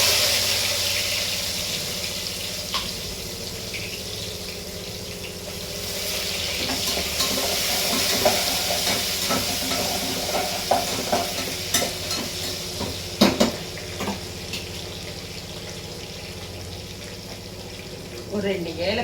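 Onions and whole spices sizzling and being stirred in hot oil in a pan for chicken biryani, a steady frying hiss with scraping stir clicks, a brief tap-water run and a voice talking now and then.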